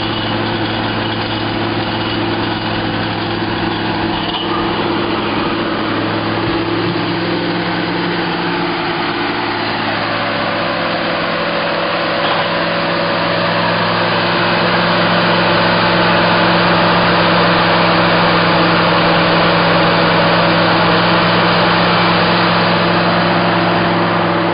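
A geothermal well drilling rig bores a hole for an earth loop system and starts hitting rock, giving a loud, steady engine drone with constant low hum and rising grinding roughness near the end, with no talk.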